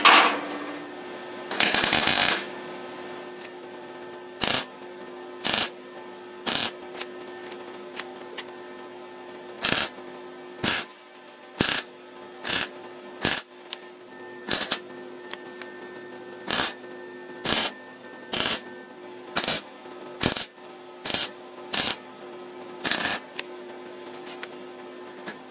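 A drill opening up a slotted pilot hole, starting with one brief loud burst and then settling into a long series of short, evenly spaced whirring pulses, close and fairly loud with quiet gaps between.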